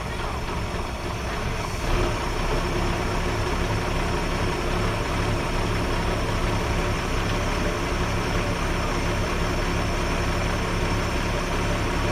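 Steady, loud rumble of a 1961 Ford Falcon delivery engine idling low on an unadjusted carburetor, an unbroken drone that continues for about twelve seconds.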